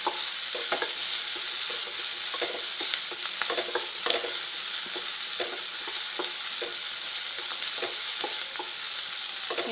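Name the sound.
frying eggplant in a pan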